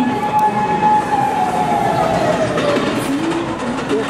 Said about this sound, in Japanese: 221系電車だ。